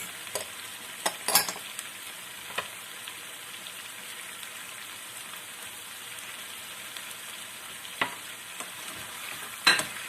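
Meat for hindi kapama sizzles and fries in a pan, a steady crackling hiss broken by several louder stirring clatters and pops, close and continuous with no talking.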